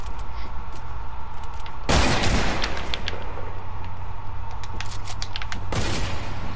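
Gunfire in a PS4 shooter game, with a sharp loud blast near the two-second mark and a second burst later, set over a constant rumbling game backdrop with scattered smaller shots.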